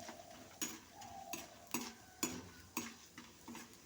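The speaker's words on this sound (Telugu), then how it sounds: "దాని తర్వాత కొంచెం మంచిగా ఎర్రగా వేపుకోవాలి." Food frying in a pan while a spatula stirs it, giving rhythmic scraping strokes about every half second over a soft, steady sizzle, close up with no voices.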